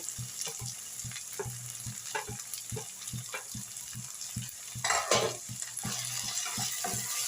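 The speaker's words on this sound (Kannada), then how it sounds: "ಇದೆಲ್ಲ ಫ್ರೈ ಆಗಿದೆ ಶುಂಠಿ ಬೆಳ್ಳುಳ್ಳಿ ಪೇಸ್ಟ್ ಎಲ್ಲ ಇವಾಗ ಟೊಮೆಟೊ ಹಾಕ್ತಾ ಇದ್ದೀನಿ" Tomatoes frying in a pan with ginger garlic paste for a chicken masala, giving a steady close sizzle with repeated scraping stirs and a louder burst of hissing midway.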